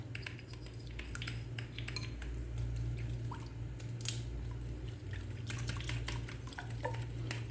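Yogurt thinned with a little water is whisked in a bowl as a marinade for mutton karahi, giving quick, irregular clinks and scrapes of a utensil close by over a steady low kitchen hum.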